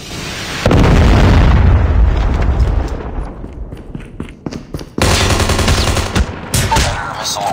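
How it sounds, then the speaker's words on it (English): Predator missile strike in Call of Duty Mobile: a loud booming explosion with crackling, gunfire-like bursts that fade, then a second heavy blast and rattling pops, all close and dense with no talk. "Predator missile inbound."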